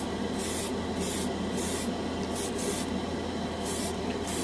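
Cheap chrome paint sprayed in repeated short airbrush or spray-can bursts over a model, pulsing hiss rising and falling about twice per second over a constant close whooshing background.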